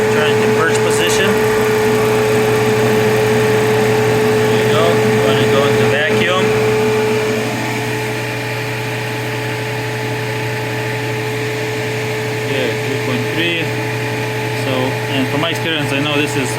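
A refrigerant recovery machine purges the R134a system of an LG refrigerator, giving a loud, steady mechanical hum and whine that eases slightly midway, with faint clicks and handling noises.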